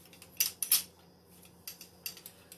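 A half-teaspoon measuring spoon being dried and handled in a kitchen while baking, giving a few sharp metallic clinks and clatters, close and fairly quiet, in short bursts over a low background.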